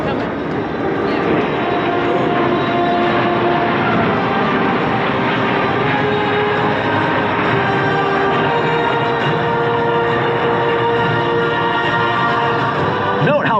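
A C-17 Globemaster III military transport aircraft flies past at the Southern California Air Show, making a loud, continuous broadband jet roar that fills the whole stretch with little change in level.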